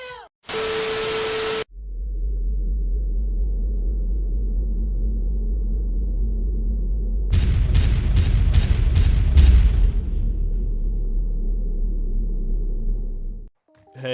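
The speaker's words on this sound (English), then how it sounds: "Tactical Nuke ready to fire." A tactical nuke detonating in Call of Duty Modern Warfare multiplayer: a brief tone, then a long steady roar that swells into a burst of crackling blasts before cutting off, loud and alone.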